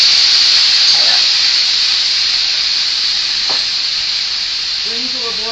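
Pea pods and beef cooking in a pan give a loud, steady sizzle with hissing steam that runs unbroken for several seconds, close up, with a brief voice near the end.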